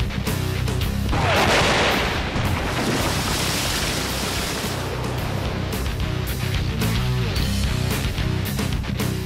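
A one-third-pound underwater charge goes off in a 3-foot test tank, giving a loud, broad blast followed by a long roaring wash of spray and water falling back.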